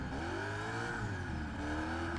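A Koenigsegg in the racing game Test Drive Unlimited Platinum holds a loud, continuous whooshing engine tone that swells and eases slightly in pitch throughout, with no voices present.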